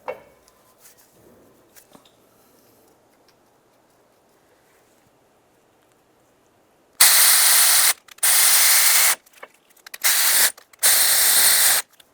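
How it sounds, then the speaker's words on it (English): A ratchet clicks in four loud bursts on the mounting bolts of a 1994-2002 Dodge Ram 2500 during a leveling kit install. The bursts come after a long quiet stretch with a few faint knocks. "you can snug them up and then torque them to 14 foot-pounds"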